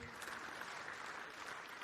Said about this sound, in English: big round of applause for our 2025 All-Australian wheelchair team